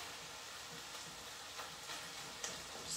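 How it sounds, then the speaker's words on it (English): Ground lamb sizzles and fries steadily in a pan for a Bolognese, a constant crackling hiss with faint scraping as it browns. "My lamb is getting nice and browned."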